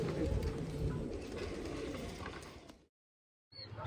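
Pigeons cooing in Kolkata, West Bengal, a steady close murmur of low coos with bird noise for about three seconds, then a brief silence before the cooing resumes.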